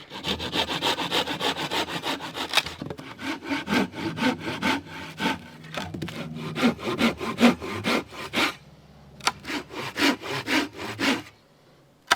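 Firewood cut by hand with a saw at a backwoods riverside camp: steady rhythmic rasping strokes, loud and close, running in bursts with brief pauses between them.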